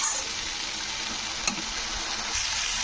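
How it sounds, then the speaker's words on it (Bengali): Tomato paste fries in oil while it is stirred, giving a steady, bright sizzle throughout with soft scraping from the stirring and a small clink partway through. "তো টমেটোটা নাড়তে হবে যতক্ষণে টমেটো থেকে তেলটা ছেড়ে যাচ্ছে।"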